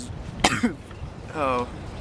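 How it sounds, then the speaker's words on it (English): A single sharp cough bursts out up close, followed moments later by a short voiced sound like a throat-clearing grunt. "just coughed during my cough disclaimer"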